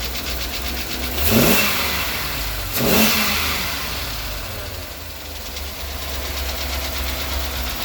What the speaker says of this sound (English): Got this knocking noise. I don't know if it's lifters or an exhaust leak.